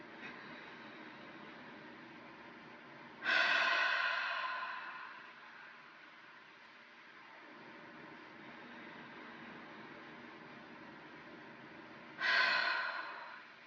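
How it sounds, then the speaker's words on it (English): Two slow, deep breaths of a guided relaxation exercise, each a loud airy inhale through the nose followed by a long, fading exhale through the mouth, separated by several seconds of quiet room tone. "We're going to inhale through the nose and exhale through the mouth."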